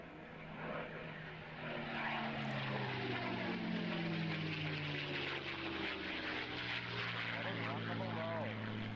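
A Supermarine Spitfire propeller aircraft flies overhead, its engine drone rising and holding steady and fairly distant for the whole stretch, with a faint pitch shift as it passes; voices talk quietly underneath.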